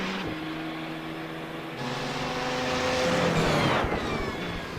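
A high electric whine from the Audi R18's brake energy regeneration in iRacing at Barcelona rises and falls under the racing engine's drone, steady and prominent through the stretch.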